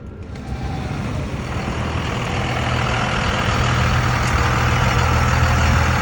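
A pickup truck pulls away at a retired military base, its engine rumble loud and close, building steadily as it drives off, with no one talking.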